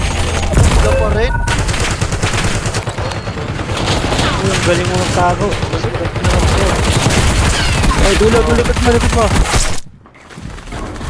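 Rapid video game gunfire crackles in dense, loud bursts almost nonstop, with players talking excitedly over it before the shooting cuts off abruptly near the end.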